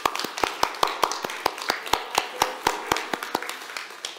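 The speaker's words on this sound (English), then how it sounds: "Let's give them a round of applause" A few people in a church congregation clap at a Sunday service, sparse distinct handclaps in a loose, fairly regular rhythm, close and crisp rather than a full crowd roar.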